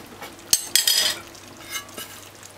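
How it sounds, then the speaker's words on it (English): Cabbage and salt codfish being stirred in a pot, with a couple of sharp utensil scrapes and clinks against the metal over a faint background hiss. "Just stir it like that."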